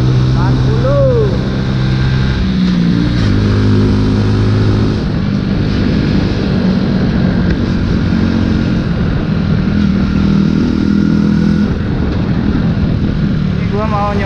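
A Honda Little Cub motorcycle rides along a road, its small engine droning steadily and loud close by, with a rider talking over it at times.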